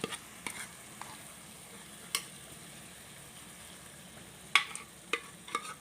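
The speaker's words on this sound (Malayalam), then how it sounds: "പരിപ്പും കൂടെ എണ്ണയിൽ കിടന്ന് ഒന്ന് വഴണ്ടി വരുമ്പോൾ നല്ല ടേസ്റ്റാണ്" Faint, steady sizzle of lentils sautéing in oil, broken by a few sharp clicks and scrapes of stirring, with a small cluster near the end.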